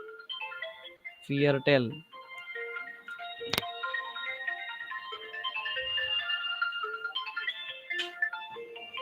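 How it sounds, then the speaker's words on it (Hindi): Mobile phone ringing during an online German language lecture, a steady melodic ringtone running under a man's speech, with a brief sharp click partway through. "कोई मैडम का फोन आ रहा है."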